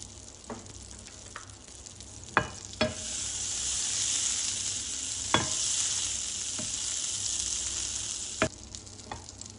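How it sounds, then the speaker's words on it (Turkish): Butter melting and sizzling in a frying pan, a steady bright hiss with a few sharp clicks and taps of utensils against the pan. "Tekrardan bir tatlı kaşığı kadar tereyağı koyuyorum."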